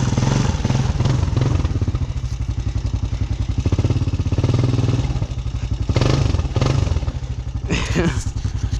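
A Honda Recon ATV on small tires churning through thick creek mud, a close, loud, pulsing single-cylinder engine chug that surges and bogs as the throttle is worked, with a brief splash near the end.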